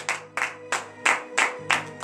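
A congregation at a Saturday morning prayer service in Benin claps in a steady rhythm, about six sharp, close bursts evenly spaced, with a soft musical tone sustained underneath.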